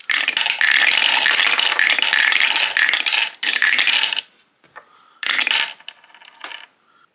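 Dice clatter down a carved wooden dice tower, a long close rattle of hard knocks that stops, followed by a couple of shorter rolls and scattered settling clicks.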